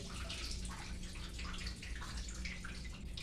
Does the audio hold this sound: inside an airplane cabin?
no